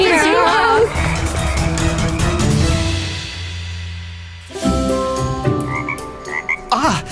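Several frogs croak loudly and close by in a dense chorus, with music running underneath and a short quieter break partway through.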